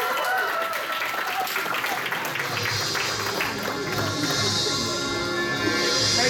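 A convention crowd at a game show at PortConMaine 2023 claps and cheers under lively background music and voices, a steady, busy wash of applause throughout.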